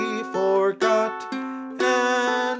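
Ukulele picked with a claw technique plays a repeating pattern of bright plucked notes and chords, clear and close with no voice over it.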